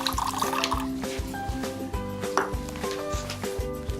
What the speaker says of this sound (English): we're going to measure out hot water to use as a catalyst